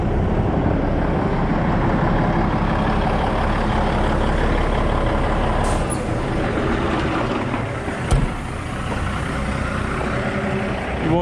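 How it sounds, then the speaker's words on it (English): A heavy truck hauls a hooked-up gooseneck trailer on a farm road, its steady loud engine drone and rumble filling the scene with a brief clank near the end. "let's get this trailer hooked up and get it rolling down the road"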